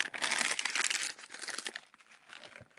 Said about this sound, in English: You're gonna hear this crumple.